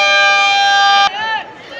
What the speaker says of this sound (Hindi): एक बार चेतावनी देने के लिए सायरन बजाते हैं लोग